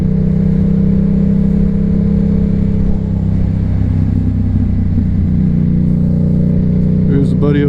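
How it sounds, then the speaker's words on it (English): A Yamaha R7 supersport motorcycle drops a gear and pulls away, its steady mid-range engine drone running loud and continuous throughout, with a brief higher whine near the end. "we're gonna downshift right here and get a little bit of lean angle"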